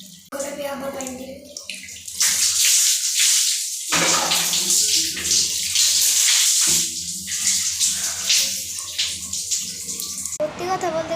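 Water pours and splashes in bursts during washing, loud and close, with brief pauses between pours and a voice speaking at points.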